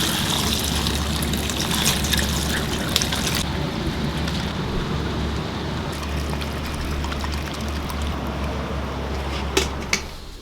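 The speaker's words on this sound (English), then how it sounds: "let's go ahead and strain the broth into a different pot" Pork bone broth poured through a strainer into another pot: a continuous close splashing pour with trickling and a few light clinks of metal.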